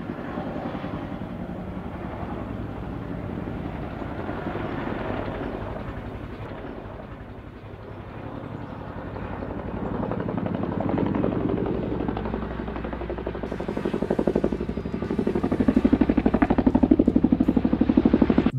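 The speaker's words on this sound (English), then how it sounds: "Then this helicopter managed to make the landing right on the edge of the cliff." A helicopter's rotor thrums steadily with a deep chopping drone, growing louder toward the end as it draws closer to land on a cliff edge.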